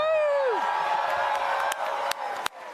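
A convention panel crowd cheers and whoops in a large hall, a dense continuous roar with a rising voice near the start and a few sharp claps or thumps toward the end.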